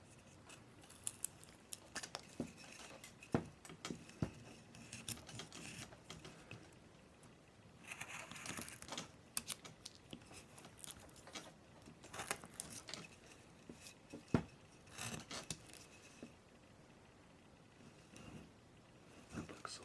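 A knife carves a wooden female figure, making faint scattered scrapes and small clicking cuts in uneven bursts, close but quiet, with no talk.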